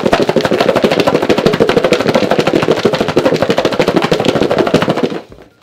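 Garlic cloves rattling hard inside two Tupperware bowls held together and shaken, a loud rapid continuous clatter for about five seconds that stops abruptly.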